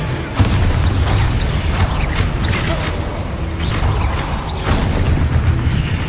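Confringo and Expulso spell explosions in Hogwarts Legacy, with dense, loud booming blasts and rumbling under a steady roar, with brief whooshing streaks on top.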